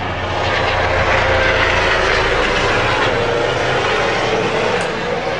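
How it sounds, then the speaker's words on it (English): A helicopter passes close overhead, a loud, steady broadband roar of rotor and engine that swells and holds for several seconds with no talk over it. "look at that helicopter"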